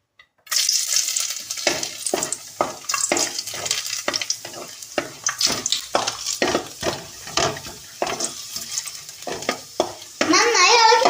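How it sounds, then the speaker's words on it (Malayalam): Garlic hits hot oil in a pan and sizzles, stirred with repeated scraping and clinking of a utensil against the pan, close and lively, with a voice briefly near the end. "ഇനി നമുക്ക് വെളുത്തുള്ളി ഇട്ട് കൊടുക്കാം."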